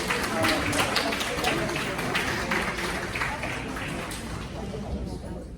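Sustained audience applause at a community meeting, a dense wash of clapping that gradually thins and fades while a voice speaks over it.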